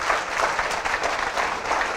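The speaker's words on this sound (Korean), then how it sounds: "박수 한번 칠까요?" A crowd applauding steadily, dense clapping that holds at an even level throughout, fairly close.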